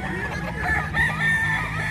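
A fighting rooster at a gamefowl farm in Bocaue, Bulacan crows once, loud and close, its drawn-out call standing alone over faint background noise.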